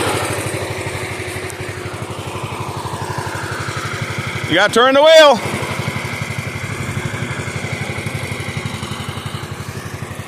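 A small Bolens garden tractor engine idles with a steady, rapid chug close by, running throughout while someone briefly speaks over it midway.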